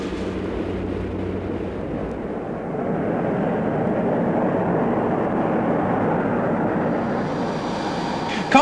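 Concorde airliner on a transatlantic flight out of London, heard from the flight deck: a steady, broad cabin roar of engines and airflow, rising slightly partway through and continuing without speech, ending on a brief bump.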